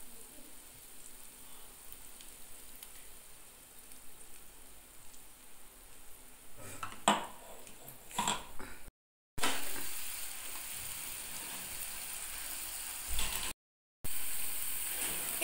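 Onions fry in a pan as tomato, poppy seed and green chili paste go in, giving a steady quiet sizzle with louder scraping stir bursts partway through and a brighter, stronger sizzle after brief breaks.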